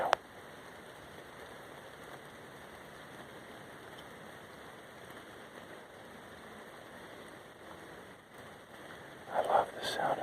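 Rain falling steadily along a forest trail during a walk, a soft even hiss of drops on leaves and ground, fairly faint and continuous, with a brief louder rustle near the end.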